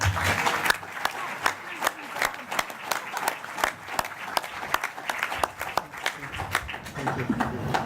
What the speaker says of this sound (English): Join with me to give them a round of applause.